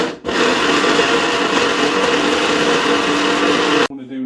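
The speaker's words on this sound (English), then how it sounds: "So we'll get it in the blender and we just simply blend it." A kitchen blender whirs loudly and steadily, pureeing raw prawns into a paste for gluten-free Chinese prawn toast, starting abruptly and cutting off near the end.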